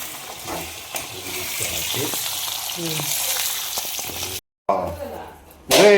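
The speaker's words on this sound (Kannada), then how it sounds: "ಅದು ಮೆಣಸಿನ್ಕಾಯಿ ರೋಸ್ಟ್ ಆಗಲಿ ನೀಟಾಗಿ ಆಯಿಲಲ್ಲಿ ಹಿಡ್ಕೊಂಡ್ರೆ ಅದು ಘಮ ನೀಟಾಗಿ ಬರುತ್ತೆ" Green chillies roast in oil in a pan, a steady close sizzle with stirring scrapes, and voices talking over it near the end.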